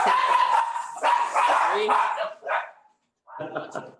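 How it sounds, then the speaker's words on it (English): A dog barks and yips in the background of a city council meeting held by remote call, a few short bursts heard under and between ongoing speech. "I assume that's your dog, Benita?"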